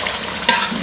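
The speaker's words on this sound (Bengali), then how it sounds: "এই মশলাটা একটু বেশি করে কষাবো" A brief burst of spices being sautéed and stirred in a pan, an even close sizzle with a couple of scraping stirs.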